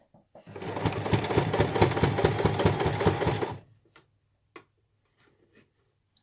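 Sewing machine stitching bulky bunting fabric under the presser foot, a loud, fast, steady run for about three seconds that stops abruptly, followed by a few faint ticks and clicks.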